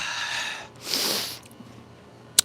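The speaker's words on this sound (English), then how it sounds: "Let me blow my nose real quick." A person blows their nose in a forceful, breathy honk lasting about half a second, amid steady background noise, with a brief click near the end.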